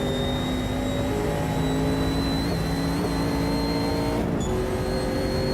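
Naturally aspirated V8 race car in Automobilista 2, a steady loud engine drone with a high, thin transmission whine running continuously on top, pitch holding nearly constant, with a brief dip near the end.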